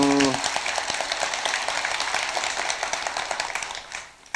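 Audience applause at a Sunday dharma talk at Bongeunsa temple, a dense crowd of many hands clapping steadily and loudly, with a brief voice at the very start before the clapping fades near the end.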